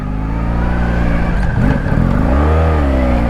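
A loud, close 1984 Honda V65 Sabre 1100 motorcycle engine idles with a deep rumble, then revs up and drops back before settling into a heavy, throbbing idle.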